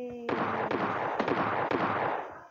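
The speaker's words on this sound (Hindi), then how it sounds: "ये शॉट गन लेके कौन फिर रहा है?" Shotgun blasts in the battle royale game PUBG Lite, several sharp reports spaced about half a second apart over a sustained noisy game background, moderately loud and somewhat distant.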